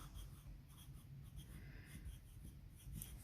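Pen writing on paper gives close, quiet scratching strokes in short repeated bursts, with no talking.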